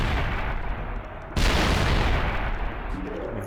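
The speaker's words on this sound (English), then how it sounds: "Let's end it with a big explosion" A Doom Shroom blast in Plants vs. Zombies 2 lands as a sudden loud boom partway through, rolling into a broad, sustained rumble over a continuous noisy game bed.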